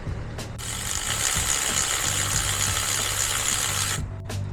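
A 13 mm wrench works nuts loose on a Mini Cooper during a starter replacement, giving a steady, close mechanical ratcheting rattle that runs for several seconds, bracketed by sharp metallic clicks.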